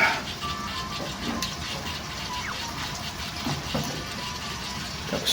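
A little water is poured into a pan of cooking ampalaya (bitter melon), a soft continuous trickle and splash heard close up with kitchen background noise.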